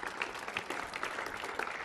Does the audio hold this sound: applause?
yes